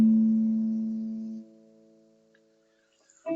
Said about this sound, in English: What's ringing out in there is matching my chord here